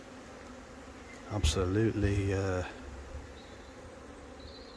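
Honeybees buzzing in a spring bee yard, a steady low hum heard beneath a brief spoken word.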